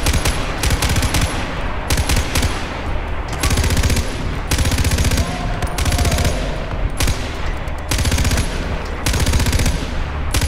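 Dense automatic gunfire in the Far Cry 4 video game, loud and close, long continuous bursts broken by brief pauses across the whole stretch.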